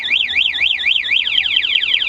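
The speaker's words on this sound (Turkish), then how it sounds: "Alarmı da çalıştı." A loud electronic alarm on a 2021 Motolux Rossi RS 50 motorcycle wails in a rapid up-and-down siren pattern, then switches to a faster chirping sweep, sounding close by.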